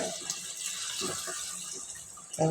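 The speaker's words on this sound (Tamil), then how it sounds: "அந்த தண்ணியும் சேர்த்துடலாம்" Water pours in a steady, soft stream into a cooking pot for chicken biryani, with faint clinks and a brief louder clatter near the end.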